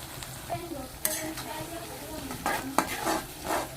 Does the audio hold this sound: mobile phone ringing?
no